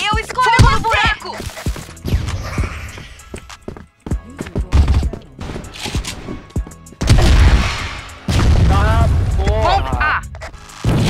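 Grenade explosions in a video game burst out as loud, booming blasts among rapid clatter, mostly buried under excited, shouting voices that talk over nearly the whole stretch.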